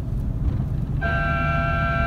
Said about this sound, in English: I'm gonna honk my horn